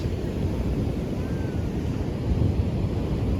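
Strong ocean waves break against coral reef on the south coast of Java, heard as a dense, continuous roar of surf mixed with wind buffeting the microphone, with no talking.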